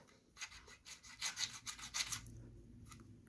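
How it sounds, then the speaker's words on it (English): A small triangular file scrapes excess plastic mold flashing off an AK magazine. The result is a quiet, close, rapid rasping and rubbing in uneven strokes, with no talking. "Got a nice little triangular file here that's going to fit nicely in there."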